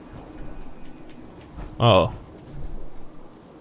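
Rain falls in the video game Fallout 4 while the player wears power armor, a faint steady patter in the background interrupted by one brief spoken exclamation.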